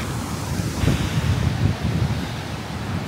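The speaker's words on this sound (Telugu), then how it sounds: "వాటర్ అన్నీ కింద పడుతుంటే ఎంత పెద్దగా ఉందో చూడండి వాటర్ ఫాల్." High Force waterfall in County Durham, UK, a loud, steady roar of cascading water mixed with wind buffeting the microphone, continuous and close for the whole stretch.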